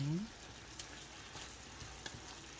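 Pork and peppers sizzle softly in a pan with oyster and soy sauce as they are stirred, a faint crackling hiss broken by a few light scrapes and taps.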